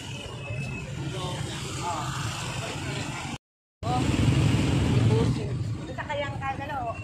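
Steady roar of traffic on a drizzly road, with a motorcycle passing among cars and buses, broadband engine and tire noise continuous throughout, faint voices underneath and a brief cut to silence midway.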